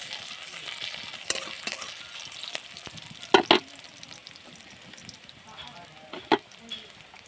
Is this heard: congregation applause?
no